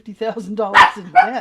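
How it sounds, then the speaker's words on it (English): A small dog barks and yips repeatedly at close range in a home, overlapping a person speaking. "Sorry about my dog."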